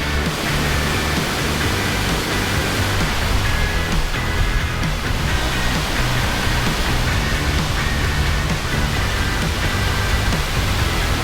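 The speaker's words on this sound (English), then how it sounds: "there's a few different waterfalls going to this little pool down here" Several waterfalls pouring into a small swimming pool in the Atherton Tablelands, a loud, constant broadband roar of falling water, close and unbroken, with no voices.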